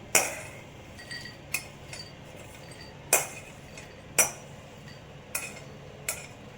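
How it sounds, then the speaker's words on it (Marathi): Roasted peanuts are scooped from a kadhai into a bowl, giving a handful of sharp metallic clinks and scrapes at irregular intervals over a quiet background, with no voices. "नंतर भाजलेले शेंगदाणे मी एका बाउलमध्ये परत काढून घेतले।"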